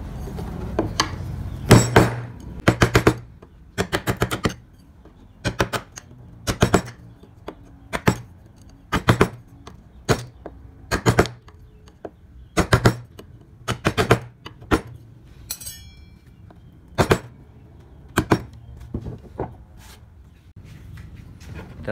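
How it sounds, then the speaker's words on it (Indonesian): A chisel struck repeatedly to carve wood with a kol gouge, making sharp, close tapping knocks in irregular bursts and pauses with short quiet gaps between strikes, alone without talk. "gunakan pahat kol"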